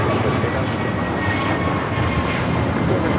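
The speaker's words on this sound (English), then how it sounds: "So we're continuously getting these south-sided takeoffs for Delta and Southwest." A jet airliner takes off from a south-side runway at LAX, filling the whole stretch with a loud, steady, close engine roar that never lets up.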